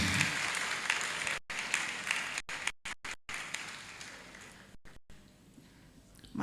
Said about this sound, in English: You should give her another round of applause.